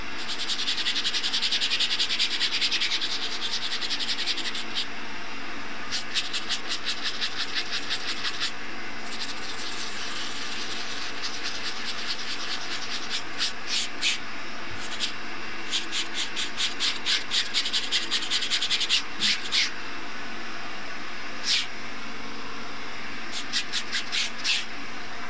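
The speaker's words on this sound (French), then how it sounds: "je vous propose des bruits de brossage, mais de manière assez énergique" Vigorous ASMR brushing and scrubbing as part of a cleaning routine, made of close, crisp scratchy strokes that come in rapid bursts with short pauses between them and no talking.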